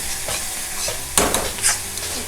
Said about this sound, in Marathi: बघा कांद्याचा रंग बघा मीठ घातल्यामुळे कांद्याचा रंग बदलला अजून दोन मिनटं आपण जरा परतून घेऊया